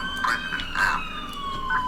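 Police car siren wailing in a video game set in Liberty City, rising and falling tones cycling steadily, moderately loud with faint background noise.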